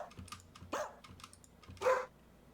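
Two short, sharp dog barks from a recorded sample, fairly faint, set against soft clicking like keyboard typing.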